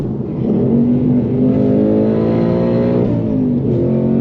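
A 2022 Ford Mustang Mach 1 engine revs steadily upward, its loud, close growl rising in pitch over about four seconds with no voices.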